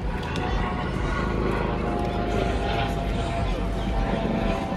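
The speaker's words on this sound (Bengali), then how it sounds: "এটা হেলিকপ্টার অ্যাম্বুলেন্স।" An air ambulance helicopter flies overhead at the Royal Observatory in London in summer. Its rotor and engine make a continuous low rumble that holds steady across the whole stretch, with faint voices mixed in.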